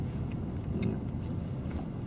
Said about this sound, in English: Oh, loads of cars, isn't it?